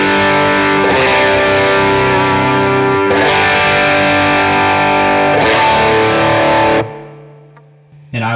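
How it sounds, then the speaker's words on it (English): Electric guitar through a Klon overdrive pedal set for higher gain on a worship pedalboard strums three loud sustained chords, each ringing out before the next, then cuts off into a fading tail. "I also use the Klon as kind of a higher gain sound."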